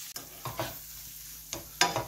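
Chopped onions and capsicums sizzle gently in a pan, with a few stirring scrapes and clatters over a soft, steady frying hiss.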